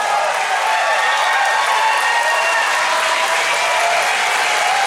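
Large audience applauding and cheering steadily for actor Billy Dee Williams as he slowly climbs steps with a cane, a dense, continuous wall of clapping with no pauses.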